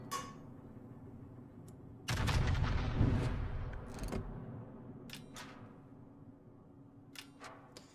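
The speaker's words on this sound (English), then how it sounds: "Maybe we can get a nice salvo into that Shimakaze." A battleship main-gun salvo in a naval warfare video game, fired from the Vermont: one heavy booming burst rises out of a steady low rumble and fades over a couple of seconds, followed by faint scattered pops.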